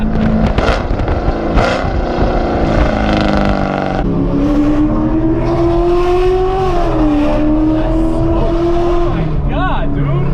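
A Chevrolet Camaro SS, a sixth-generation car on Miami streets, roars loudly up close as its engine revs and climbs in pitch, sustained throughout with people talking over it.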